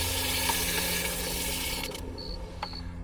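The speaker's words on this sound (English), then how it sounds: "Suckers might now be ready to quench. You ready for this sizzle?" Hot forged steel chain hisses in quench water with a steady sizzle that holds evenly, then gives way to a few short, sharp clicks near the end; no voices are heard.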